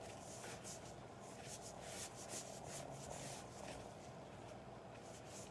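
Towel wiping clear wax off a thrifted piece of furniture, a steady soft rubbing hiss with faint repeated strokes, close and quiet, no talk.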